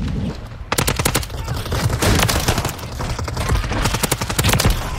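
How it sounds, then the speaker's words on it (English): Rapid automatic gunfire in Call of Duty: Modern Warfare III, loud and close, with dense cracking bursts rattling almost continuously after a brief quieter start. "Why does he keep shooting my body, bro?"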